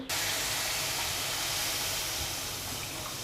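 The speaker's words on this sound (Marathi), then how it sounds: "छान अशी उकळी येली" Water comes to a boil in a pot for a dried prawn dish, a steady broad hiss and rumble of rolling bubbles that stays constant and close throughout, with no speech.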